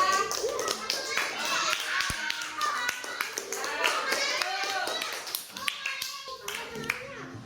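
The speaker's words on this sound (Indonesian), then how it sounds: "Oke, tepuk tangan ya." Children in a primary school classroom clapping hands together, sharp claps mixed with lively chatter and kids' voices throughout.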